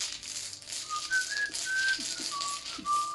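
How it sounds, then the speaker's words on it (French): A person whistles a wavering, faltering tune, thin and fairly close, with pitch drifting between sustained notes and a few soft clicks underneath, no talking. "Je siffle pas bien."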